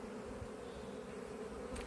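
An agitated swarm of honeybees drones in a low, continuous, tightly pitched hum, faint and steady throughout the short stretch with no talk.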